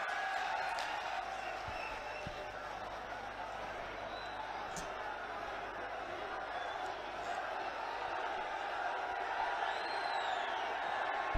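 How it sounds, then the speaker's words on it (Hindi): Crowd noise at a political rally in Sambhal with the Uttar Pradesh chief minister, a steady distant wash of applause and cheering under a loudspeaker voice, with an occasional whoop rising above it. "जोरदार तालियों से स्वागत।"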